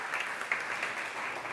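A conference audience at a JavaScript developer event applauds, a steady wash of many hands clapping together that stays even and moderately loud for the whole short stretch.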